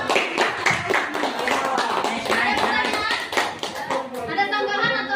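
A classroom group applauds group 5 after their presentation in a coaching and academic supervision session, with close, rapid and uneven hand claps and children's and adults' voices chattering underneath.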